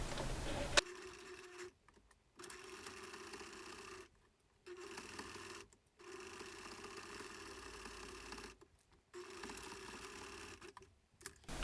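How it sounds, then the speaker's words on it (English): A sewing machine runs a straight stitch along the edge of a fabric mask headband, its motor whirring steadily in four bursts separated by short pauses, close and clear with no talk. "Just a little straight stitch."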